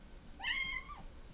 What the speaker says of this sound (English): you heard it first from my cat